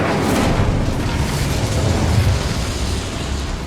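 The Incendio fire spell in Hogwarts Legacy goes off as a loud, sustained fiery roar and rumble that sweeps through the full few seconds without letting up.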